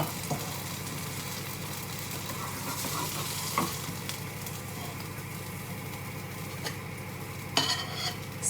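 Chickpea and nut burger frying steadily in a pan, a continuous close sizzle with occasional faint clinks of a utensil, no voices.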